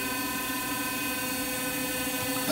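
The spindle of a Daewoo Ace DMV-500 vertical machining center runs at 1,000 RPM, giving a steady high whine with constant tonal hum and no speech.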